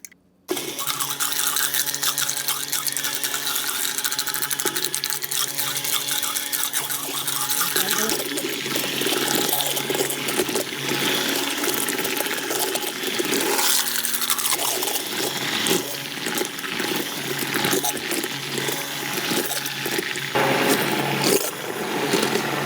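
Milk is poured from a can while making coquito, giving a steady, continuous liquid splash and gurgle that stays close and loud for over twenty seconds.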